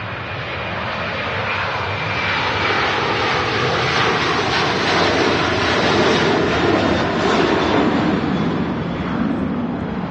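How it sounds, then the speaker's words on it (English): An Airbus A330 jet taking off at Manchester Airport, a loud continuous engine roar that holds steady and swells slightly in the middle, heard from nearby at the airport. "Pretty shallow takeoff there from the 330."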